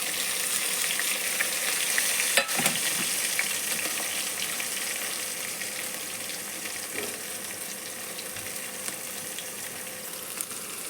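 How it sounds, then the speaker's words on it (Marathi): Dal sautéed in a pan, a continuous close crackling sizzle with occasional stirring scrapes and a sharp knock near the start, steady throughout with no voices. "त्या डाळीला आपण थोडंसं परतून घेऊया."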